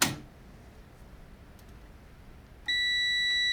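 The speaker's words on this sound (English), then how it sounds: "So if I put the continuity meter like this, beeps." A continuity meter gives one sharp, steady electronic beep that begins near the end, loud and close, after a quiet stretch with a faint click at the start, during wiring checks on an old Colchester lathe being fitted with a VFD.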